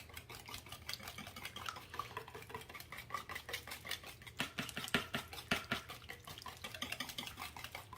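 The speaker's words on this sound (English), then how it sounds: "we are just gonna whisk this. Whisk it really, really well." Eggs and sugar are whisked briskly in a bowl, a rapid run of light rhythmic ticks and scrapes from the whisk against the sides, close and soft with no talking.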